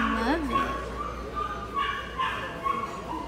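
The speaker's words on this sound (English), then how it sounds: "This dog going crazy." An excited dog yips and whines in high, rising bursts over a steady background hum, with a person talking nearby.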